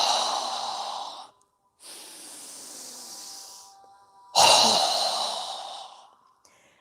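Two strong breathy exhales pushed out through the mouth during yoga breathing, each a loud rushing burst that fades over about a second, with a softer airy breath between them and no talking.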